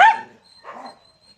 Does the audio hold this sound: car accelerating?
no